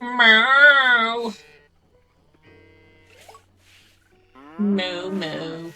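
Two long cow moos sound close and loud, separated by a quiet pause with faint clicks, in a farming video game; the second moo rises at the end.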